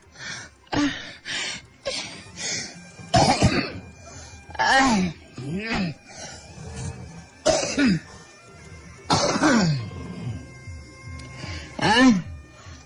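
A sick child coughs in a series of harsh, separate bursts with short gasping breaths between them, clear and close, spread across the whole stretch.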